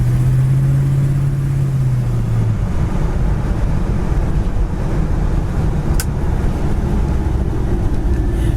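A 1967 Oldsmobile Cutlass convertible cruises along with a loud, steady low engine drone mixed with rushing wind, a brief hum shifting early on, and no talk.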